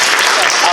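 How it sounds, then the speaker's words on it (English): A burst of loud, dense audience applause at a furry convention panel, with cheering voices mixed into the clapping. "can we get a huge round of applause for Status for helping?"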